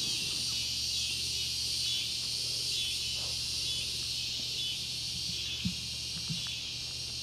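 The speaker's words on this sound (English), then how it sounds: "The cicadas are going crazy." Dense, steady insect drone of cicadas at dusk around an animal sanctuary, a continuous high buzzing that fills the air at moderate level without pause, with a faint low hum beneath and a couple of soft knocks.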